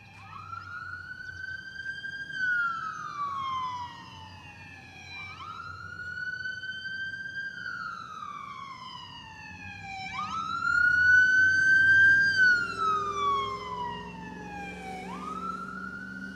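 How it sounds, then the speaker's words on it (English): Ambulance siren passing on a street, a loud wailing tone rising and falling in long sweeps over steady traffic rumble, swelling louder midway as it draws near, with no talk. "Since an ambulance passed by"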